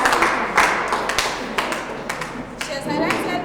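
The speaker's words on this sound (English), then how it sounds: "This is a round of applause for her." A short round of applause from staff attending a makeup class at Divine Love College, a few scattered claps and taps at close range amid light background chatter.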